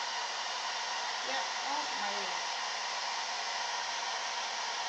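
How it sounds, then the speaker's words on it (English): Hair dryer fitted with a diffuser blowing steadily and loudly on a painted canvas, a constant roar that lasts the whole time while a voice mutters briefly underneath. "I'm just going to dry my canvas."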